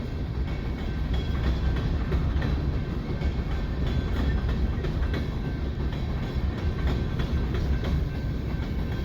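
A freight train with no rear DPU locomotive rolls past near Lincoln, Nebraska, a continuous loud rumble with steady wheel clatter on the rails throughout.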